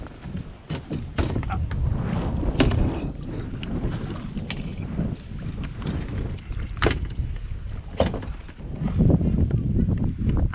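Strong outdoor wind buffeting a microphone beside a sit-inside Pelican kayak fitted with an outboard motor, loud irregular rumbling gusts that swell and drop throughout, with a few sharp knocks and brief talk.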